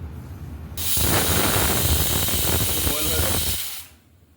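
A pressure cooker vents steam in a loud, steady hiss that starts abruptly, holds for about three seconds, then fades. The sound is close and continuous, with no talking over it.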